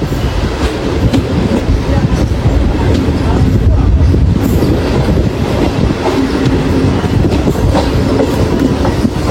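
A MEMU passenger train runs along the tracks near Srikakulam, with a steady, loud rumble and clatter of wheels throughout, some faint talk mixed into the noise.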